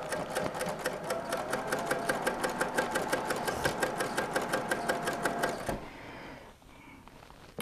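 A quilting sewing machine chain-pieces three quilt units in a rapid, even stitching rhythm, loud and close, running for over five seconds before stopping abruptly into quiet room tone.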